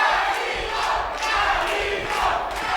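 An arena crowd at a boxing match roars and cheers continuously for the hometown fighter, Angel Ramos, a dense wall of shouting voices with rising surges and a low rumble underneath.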